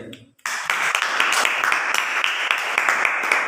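Audience applause at a school event bursts in abruptly after a brief quieter moment, then continues as dense, steady clapping with a few sharper individual claps standing out.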